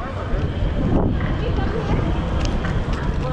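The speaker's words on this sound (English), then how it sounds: "that wind though is, that wind is pretty foolish" Strong wind buffeting a microphone outdoors at the tulip festival in Pella, Iowa, a steady loud rushing roar throughout, with people talking faintly underneath.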